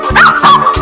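A dog barks in a children's animal puzzle game, three short loud yapping barks in quick succession, close and clear with no talk over them.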